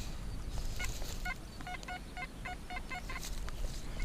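A metal detector gives a steady series of short, evenly pulsed electronic beeps over a loud background hiss, signalling a likely coin.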